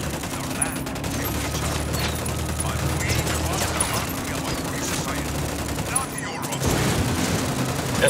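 Gunfire in Ghost Recon Wildlands: rapid automatic fire and clustered shots ring out repeatedly, loud and near, over a low droning background, with a voice speaking through the exchange.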